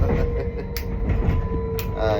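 Steady low rumble of a moving train interior, with a faint whine and a couple of brief sharp clicks; a voice murmurs briefly.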